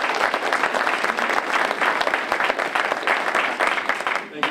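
An audience claps warmly and steadily to welcome a lecturer at an evening lecture-series talk, a dense, loud applause that holds for several seconds before tapering slightly at the end.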